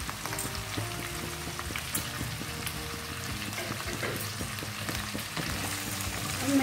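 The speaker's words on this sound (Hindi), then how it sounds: "और सारे प्याज को डाल दें।" Large chopped onion pieces fry in a pan for restaurant-style chilli paneer, making a continuous crackling sizzle with soft clinks. No one speaks.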